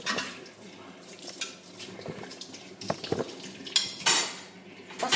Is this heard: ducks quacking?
no